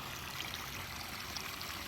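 Water trickles and burbles steadily down a small built garden stream toward a little pool, a soft, even wash of splashing with no voices.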